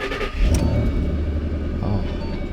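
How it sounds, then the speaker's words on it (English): A Ford Mustang GT500 engine cold-starts and settles into a loud, rumbling idle nearby, with a brief rev at the start. "cold start GT500"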